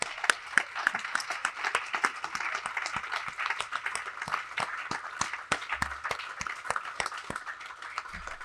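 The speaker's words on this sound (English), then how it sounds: "please clap." A graduating-class convocation audience claps steadily for several seconds, a dense, even patter of many hands in a hall, fairly loud and without talk.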